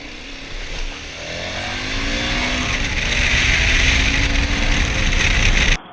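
A motorcycle engine fires up close by and revs, pitch rising and falling in repeated sweeps before cutting off abruptly at the end.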